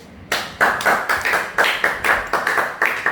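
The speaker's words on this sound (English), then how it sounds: "Clap for Jesus." A church congregation claps in a steady rhythm, about two beats per second, loud and close, with no talking.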